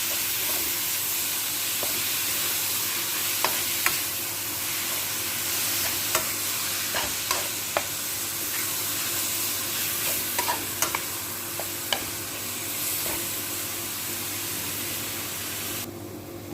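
Meat fries in a pan for stuffed vegetables (mahshi), giving a steady close sizzle and hiss with scattered clicks and scrapes of a spoon stirring it, continuous throughout with no talking.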